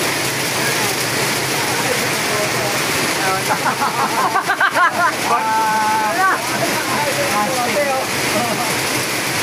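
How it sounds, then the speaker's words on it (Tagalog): Heavy rain pours down during a group ride outdoors, a loud, dense, continuous hiss and splatter. Voices talk and shout briefly over the downpour partway through. "Lakas ng ulan, guys."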